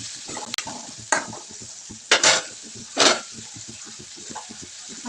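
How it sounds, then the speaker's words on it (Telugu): Tomatoes cooking with fried onions in a pan, a soft steady sizzle broken by a few louder scrapes and clinks of stirring. "ఆనియన్స్ ఫ్రై అయినాయి కదా, ఇప్పుడు టమాటాలు కూడా కొద్దిగా మగ్గాలి."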